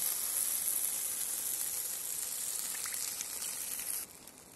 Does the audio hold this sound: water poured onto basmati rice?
yes